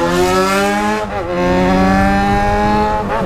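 A loud motorcycle engine with a 4-into-1 exhaust holds a steady harmonic drone, then briefly stumbles and drops in pitch at a missed gear shift before climbing again, with a second dip near the end.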